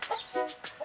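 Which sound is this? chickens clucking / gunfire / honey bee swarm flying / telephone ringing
chickens clucking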